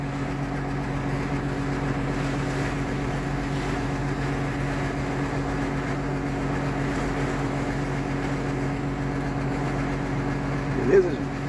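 A tractor engine idles on a farm in strong wind and heavy rain, a steady low hum with a constant tonal drone under a noisy wash of wind and rain. A voice speaks over it.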